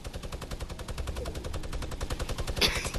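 Rapid, sustained automatic gunfire in Fortnite, a long steady stream of evenly spaced shots with a brief sharper impact near the end.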